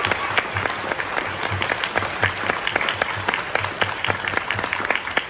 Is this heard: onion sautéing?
no